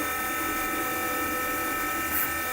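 Spindle of a Roland EGX-300 engraver cutting a wide line into wax, a steady high-pitched whine with a constant tone throughout, close and continuous without speech.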